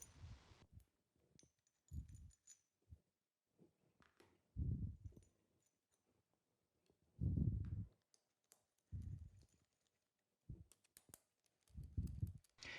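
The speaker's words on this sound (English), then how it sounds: "We start fastening the 2 screws and then check the valve operation." Small screws being fastened into the valve housing of a Vortex Rok GP, heard as close, intermittent clicks and scraping handling bursts with quiet gaps between them.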